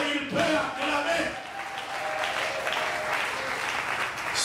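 A church congregation claps in steady, dense applause that runs the whole time, filling the room at a moderate level, with a voice faintly heard beneath it.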